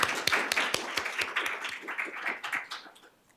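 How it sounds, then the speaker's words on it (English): An audience at a keynote session gives a short burst of applause. The claps are sharp and distinct at first, then thin into scattered claps and fade out within a few seconds. "So please give them a big round of applause."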